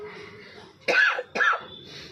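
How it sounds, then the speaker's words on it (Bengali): Two close, forceful coughs from a nearby person in a quiet room, each a short harsh burst with a brief gap between them, standing alone with no speech. "খুব কাশি হয়েছে"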